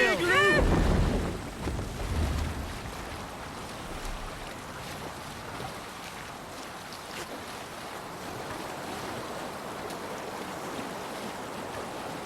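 Viking longship under sail at sea in Assassin's Creed Valhalla, a loud splash of water at first, then a steady rushing wash of waves and wind for the rest, with faint talk at times.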